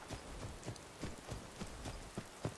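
Horse hooves clip-clop in a steady walking rhythm in Skyrim, moderately loud with a light ambient wash beneath, about eight even hoofbeats with no talking.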